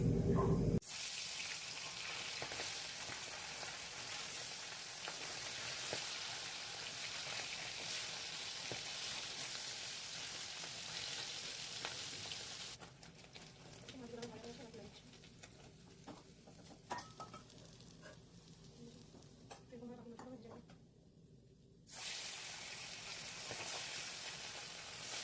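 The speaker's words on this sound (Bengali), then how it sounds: "একে একে মাছগুলো আমি ভেজে নেবো" Small puti fish fry in hot oil in a kadai, a steady loud sizzle that runs throughout, with quieter crackling patches and a short lull near the end.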